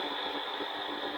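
A tractor engine in the video game Farming Simulator 19, pulling a cart during a corn harvest, hums in a brief, steady, fairly quiet drone with no talk.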